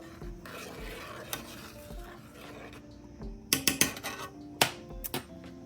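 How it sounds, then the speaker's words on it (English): A spoon scrapes and swirls through egg drop soup in a pot, a soft, steady stirring wash over a faint simmer, punctuated near the end by a few sharper clinks against the pot's side. "I'm just going to give it another gentle stir here."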